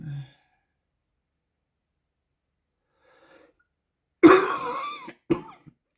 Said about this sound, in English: Excuse my cough, it's been a bit crook lately